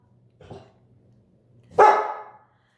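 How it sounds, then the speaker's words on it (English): A pet dog indoors gives a faint short woof, then one loud, sharp bark close by, both standing alone without talk. "Oh, there's my dog."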